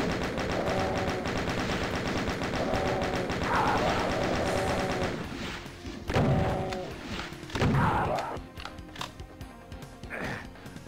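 Enemy shotgun blasts in Doom 2 in the middle of busy game action, with heavy overlapping shots and thuds at first, then sparser, sharp separate bangs toward the end.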